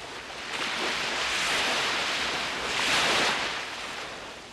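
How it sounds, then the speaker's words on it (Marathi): Ocean waves roll in, a broad hissing wash that builds, eases and surges again, with wind blowing through it and no voices. "प्राचीन समुद्र"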